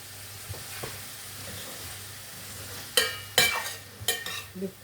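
Ground meat and vegetables sautéing in a pan give a soft, steady sizzle, broken near the end by several sharp scraping stirs and clatters of a utensil.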